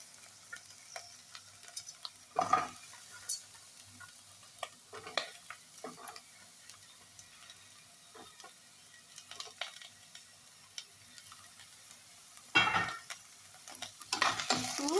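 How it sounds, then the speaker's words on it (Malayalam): Okra and onions frying in a pan for vendakka theeyal, a soft, quiet sizzle broken by a few sharp bursts of stirring and spoon scraping against the pan, with no talking. "നന്നായിട്ട് മിക്സ് ചെയ്ത് ഉള്ളി നന്നായിട്ട് വാടി വരുന്നവരെ ഇളക്കി കൊടുക്കാം."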